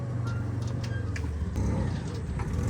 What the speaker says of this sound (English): reversing a trailer in a sandy place with a Land Cruiser